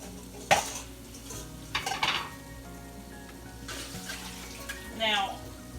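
Soaking water drained off cut food in a home kitchen, heard as splashing, running water and clattering of a pot or colander in a few short bursts against a quiet background.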